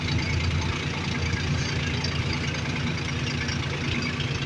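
A T580B farm tractor's engine runs steadily close by, a low, even, slightly knocking diesel drone with no talk over it.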